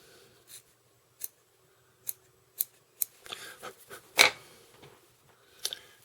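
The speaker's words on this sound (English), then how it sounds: "And I'm going to trim again." Scissors snip in a series of sharp, separate cuts while material is trimmed during the tying of an Atlantic salmon fly, with a brief rustle and scrape in between and a final pair of snips, close and crisp with no talk.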